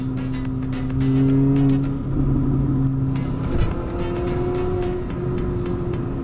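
A car engine hums and revs steadily, with crackling exhaust burbles popping intermittently over the drone.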